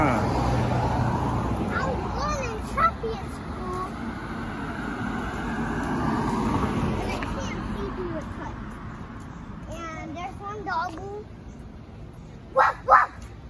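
A young boy imitates a dog with a few short barking yips, some drawn out like whimpers. The sounds come between an adult's and the child's chatter over steady background rumble, with two sharp barks near the end.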